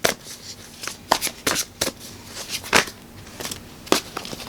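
Tarot cards being shuffled by hand, a quick run of crisp, papery riffles and slaps with brief pauses between bursts, close and clear with no talking.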